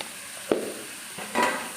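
Coconut spice paste dropped into hot oil with mustard seeds and curry leaves for a banana stem stir fry, two brief bursts of sizzling and stirring, close and fairly quiet, with no talking.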